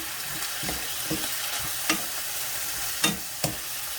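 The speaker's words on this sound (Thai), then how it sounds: "ผัดค่ะผัด" Ginger chicken is stir-fried in a pan: a constant crackling sizzle, broken by a few sharp scrapes and taps of the spatula against the pan, close and clear, with no talking.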